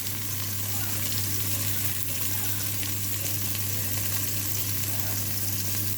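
Tomatoes and spices sizzle and fry in a hot pan, a steady close crackle that holds evenly throughout with no break.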